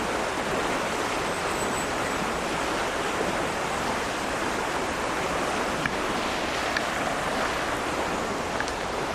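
Steady, dense rush of flowing water close by, loud and unbroken throughout with only a few faint ticks over it and no voices.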